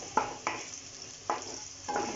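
Onions sautéing in a pan with browned garlic for chicken varutharachath: four quick bursts of sizzling as the pan is stirred, close and fairly quiet between strokes.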